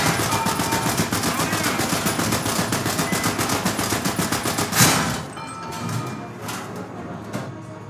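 A tank-mounted machine gun in a tank combat game rattles in a steady, rapid rhythm for several seconds, ending with a heavier impact boom, then sparse scattered shots and rumbling.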